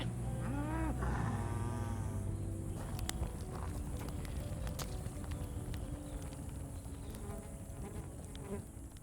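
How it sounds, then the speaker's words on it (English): Cattle in the Australian outback give a single low moo near the start, while flies and insects buzz steadily close by throughout. "Where are those cows?"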